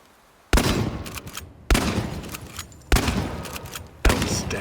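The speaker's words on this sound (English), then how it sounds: "The shotgun has considerable spread" A shotgun fires four times in the video game Chernobylite, each shot a sharp close boom at roughly one-second intervals, followed by a ringing, echoing decay.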